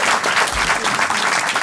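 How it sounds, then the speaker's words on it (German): A studio audience at a German panel talk show claps in a dense, loud, continuous burst of applause, with no voices rising above it. "Ihr Applaus."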